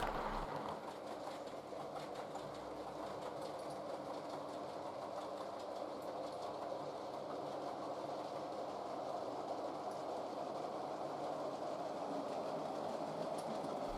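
Steam locomotive 60506 Wolf of Badenoch hauling a train on the East Coast Main Line in 1958, a steady rolling rumble with faint rhythmic clatter of carriages that holds at an even, fairly distant level throughout.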